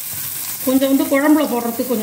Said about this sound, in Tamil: இந்த பருப்பு உண்டை வெத்த குழம்புக்கு வெங்காயத்தை வதக்க போகிறேன்.